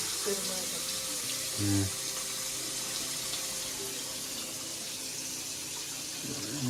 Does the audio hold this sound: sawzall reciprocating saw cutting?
no